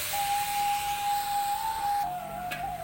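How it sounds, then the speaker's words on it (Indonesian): Banana fritters for godok pisang sizzle in hot frying oil. The hiss is steady and continuous, carrying a thin whistling tone, with no voices. "Kita lanjut lagi menggorengnya."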